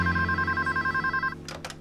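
A cartoon telephone rings with a steady, rapid electronic trill for over a second, then cuts off, leaving a couple of brief softer sounds.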